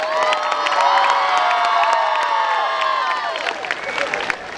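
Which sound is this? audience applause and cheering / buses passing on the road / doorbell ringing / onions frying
audience applause and cheering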